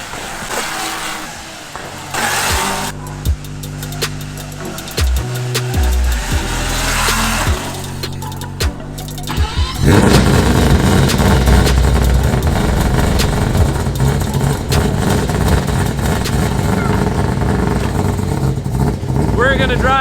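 A 4-rotor engine in a Toyota Supra revs hard, with stuttering blips and pops before a long, loud, sustained roar at high revs, close by and under people talking.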